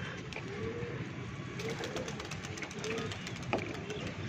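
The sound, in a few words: pigeons cooing and flying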